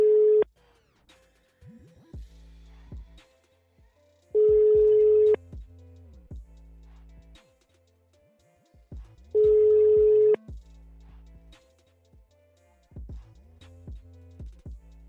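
Telephone call tones during a prank call: three long steady ringback beeps spaced about five seconds apart, with quieter chirps and tonal blips between them, no talk.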